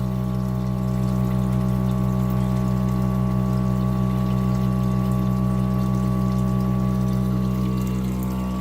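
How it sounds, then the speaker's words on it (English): A small pump moves water out of a toilet tank into the bowl while a home water system is being winterized, giving a loud, steady droning hum with a watery rush that holds unchanged throughout. "And pump the water into the bowl."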